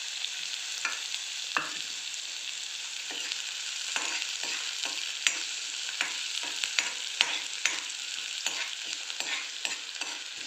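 Chopped onions sizzle steadily in hot oil in a pan over medium flame while being prepared for chana jor garam, with repeated sharp clicks and scrapes of a spoon stirring throughout.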